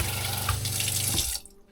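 Water gushes steadily from a brand new faucet into the sink of a camper van, fed by a pump, then cuts off abruptly near the end.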